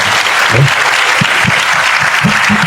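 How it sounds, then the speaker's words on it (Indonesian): Loud, sustained applause from a room of high school students, a thick wash of clapping with a few low voices murmuring underneath. "Beri tepuk tangan semua yang benar."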